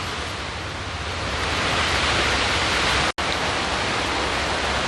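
Steady rain falling outdoors during a garden drip irrigation install, a dense, even hiss that holds constant for several seconds apart from one brief dropout, with no talk.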